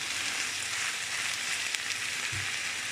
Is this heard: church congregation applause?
no